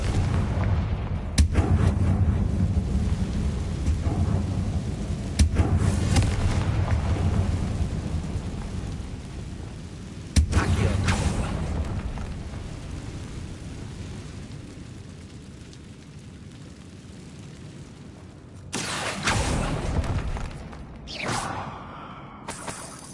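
Spell blasts from the Confringo fire curse in Hogwarts Legacy boom out as repeated heavy explosive bursts over a steady rumbling, stormy game soundscape, with a closing flurry of sharp impacts.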